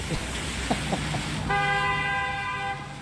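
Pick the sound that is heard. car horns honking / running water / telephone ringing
car horns honking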